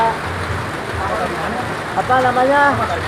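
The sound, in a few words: rain falling at Curug Cibulao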